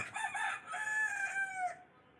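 A single rooster crow rings out on a rooftop farm at night, long and drawn out with a rising then falling tail, fairly clear against a quiet background.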